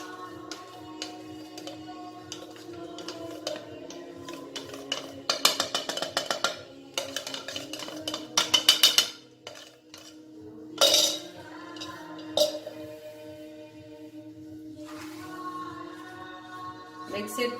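A chocolate and dry fruit nevri filling is mixed in a pan on the stove, with bursts of metal spoon scraping and clinking against the pan over a low hum.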